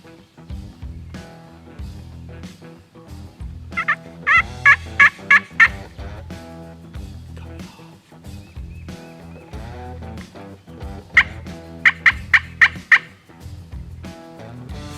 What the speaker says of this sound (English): he's gobbling right here behind me